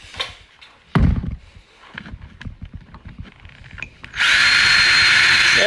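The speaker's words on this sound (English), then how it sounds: "I'll just get it chalked here and get that hole drilled." A power drill bores a hole into a wooden craft table, with a short burst of spinning and clatter early on, then a loud, steady whine that sustains near the mic until the end.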